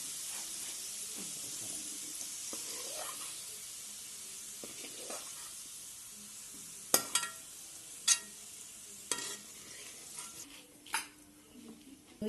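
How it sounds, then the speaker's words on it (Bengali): Fried onions lifted out of hot oil for chicken biryani give a low, steady sizzle broken by several sharp metallic scrapes and clinks of a spoon against the pan. "এবার আমি পেঁয়াজটা তুলে দিচ্ছি।"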